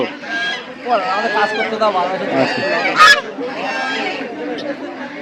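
Geese honk repeatedly at a busy Birnagar desi poultry market among ducks and other fowl, loud close calls with a sharp burst near the middle over steady crowd chatter and talking voices.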